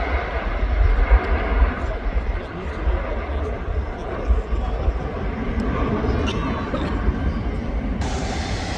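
A jet airliner roars down the runway and climbs away at Manchester Airport, a broad, loud engine rumble that stays steady before thinning slightly toward the end.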